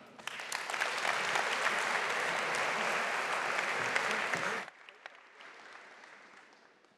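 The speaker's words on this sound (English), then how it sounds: "Can I give a big round of applause?" Audience applause at an energy-day pitch competition, a dense burst of clapping that holds steady for several seconds then cuts off abruptly, leaving faint room noise.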